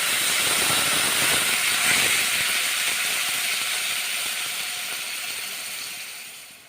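Water poured into a hot cooking pot of frying yardlong beans and kalai dal, a loud sizzling hiss that tapers off over several seconds, with no talking.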